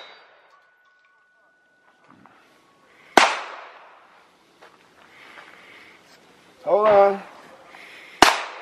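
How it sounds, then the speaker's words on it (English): A Benelli M2 shotgun fires 3-inch shells outdoors in two sharp, loud blasts a few seconds apart, with a brief spoken remark between them. "I'm going to shoot a 3-inch out of my M2"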